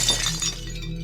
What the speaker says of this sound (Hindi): शीशा चकनाचूर हो जाता है।